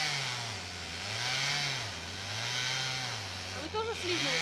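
A chainsaw works somewhere off in a forest where a road is being cleared, its engine droning and wavering in pitch as it revs, steady and fairly distant, with people talking nearby toward the end.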